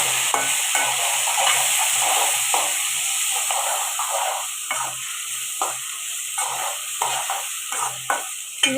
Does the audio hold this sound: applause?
no